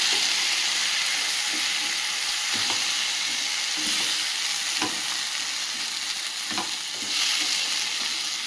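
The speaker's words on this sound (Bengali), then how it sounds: "আঁচটা কমিয়ে রেখে প্রচুর ফুলটা রান্না করব এতে আর কোনো জল দেবে না" Steady sizzling of banana flower cooking in a pan over low heat with no added water, broken by occasional light clinks and scrapes as it is stirred; no voices.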